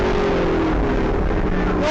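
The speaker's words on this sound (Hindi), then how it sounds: "इसने अपनी गाड़ी तेज कर ली," A car speeds up on a highway at night, giving a loud, continuous roar of engine and road noise with a faint rising tone and no breaks.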